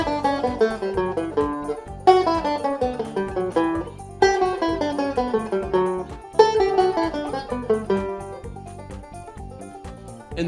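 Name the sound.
banjo playing nine-note scale exercise in reverse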